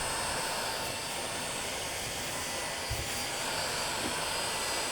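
A heat tool blows a steady, loud, unbroken roar of hot air while reheating edging tape on a cupboard edge, holding the same rushing tone throughout with no talk over it.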